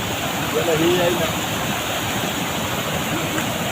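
Floodwater rushes across a farm field during a flood in Ashti taluka, a steady broadband roar with no breaks, loud and close throughout.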